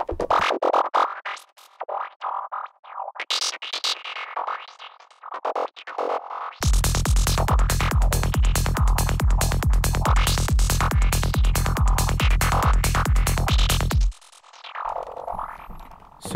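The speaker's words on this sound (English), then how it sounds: "we're going to be doing a filter traveling stabby FM sound" A rapid string of bright, metallic FM synth stabs with a moving filter, made in Bitwig for psytrance, pulses in a fast even rhythm for several seconds, framed before and after by sweeping, wobbling electronic tones.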